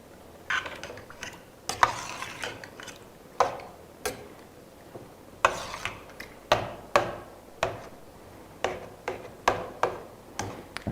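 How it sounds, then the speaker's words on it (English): A utensil clinks and scrapes against a metal pot of chili in irregular bursts, stirring with sharp ticks and short scraping strokes, fairly quiet and close. "stir it around."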